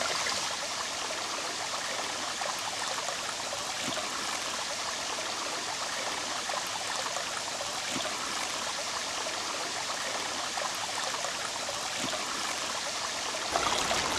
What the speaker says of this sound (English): when they got to the top of this waterfall